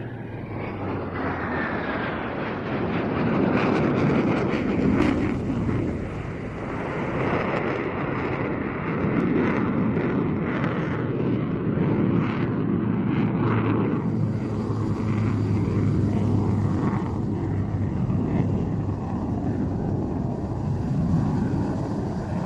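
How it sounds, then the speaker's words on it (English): An F-18 Hornet and a PC propeller aircraft fly past at an air show, a continuous loud roar of engines that swells and fades slightly without a break. "the F-18 will approach from the right side for the crossing."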